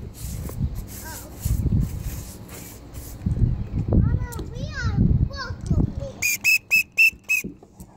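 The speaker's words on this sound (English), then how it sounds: "I blew the whistle." A child blows a whistle in a backyard near a pool, first a few soft wavering toots among children's chatter and footsteps, then four loud sharp blasts in a row at the end.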